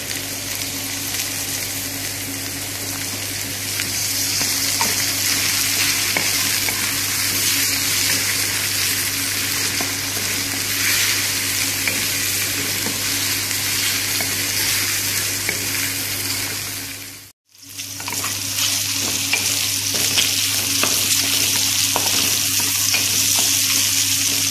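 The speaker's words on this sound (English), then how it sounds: "Mix ko ang ating hotdog." Sliced hotdogs are stirred and fried in a pan for Filipino-style spaghetti, giving a loud, continuous close sizzle with stirring scrapes throughout, broken by one brief near-silent cut before the frying resumes.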